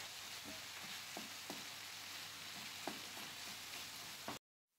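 300 grams of minced kefta meat frying in a pan with a steady close sizzle, broken by soft scraping taps as it is stirred and broken apart, ending abruptly.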